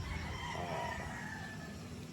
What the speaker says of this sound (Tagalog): Ayan mga boss, napakagwapong mga manok.